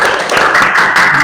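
Students applauding in a classroom during a religious studies lesson, a short loud burst of many hands clapping together, close and continuous, with no talk over it.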